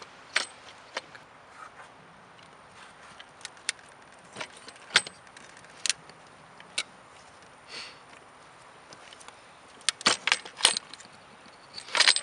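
Fuel injectors on a Mazda Millenia S being worked loose and slid out of the intake manifold, a series of scattered metallic clicks, knocks and scrapes close by, growing busier toward the end.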